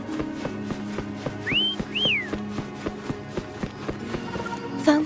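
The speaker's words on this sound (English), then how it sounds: "Why don't you call Foam over? Try whistling." Two rising, curling whistles called out in Wuthering Waves to summon the creature Foam, heard over a steady game music bed with a trotting, clip-clop beat.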